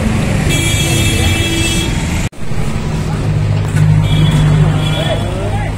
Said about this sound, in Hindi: गाड़ी आ रही है